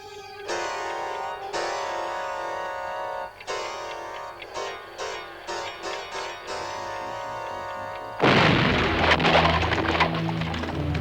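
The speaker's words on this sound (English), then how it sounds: "How long till the explosion?" A blast bursts in at about eight seconds, a loud broadband roar and rumble in a 1986 war movie, following a stretch of tense orchestral score with steady ticking.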